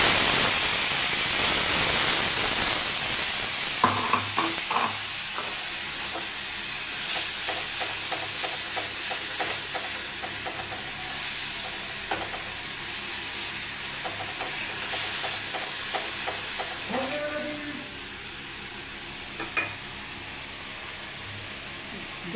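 A masala of sour yogurt, onion, ginger and garlic poured onto fried pointed gourd, a strong hiss dropping to a softer bubbling sizzle with repeated stirring scrapes and clinks.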